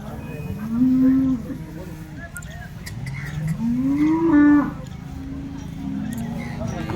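Dairy cows for sale moo several times, long drawn-out low calls rising in pitch, close by over a steady background of farm noise and murmuring voices.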